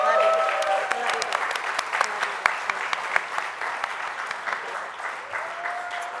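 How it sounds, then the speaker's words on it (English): Audience applause fills the room, a dense, steady wash of many hands clapping at moderate loudness throughout, with a faint voice briefly over the start. "So let's give her a round of applause for her hard work."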